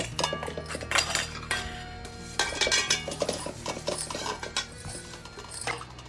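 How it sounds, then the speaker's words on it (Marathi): Utensils and pots clink and clatter steadily as dishes are scrubbed and washed by hand, close and continuous metallic knocks throughout. "कुठवर भांडी घासायचं आले नशिबात"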